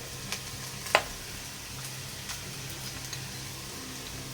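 Vegetables sautéing in a small amount of oil with ginger-garlic paste and turmeric give a soft, steady sizzle, punctuated by a sharp utensil click near the start and a few lighter taps.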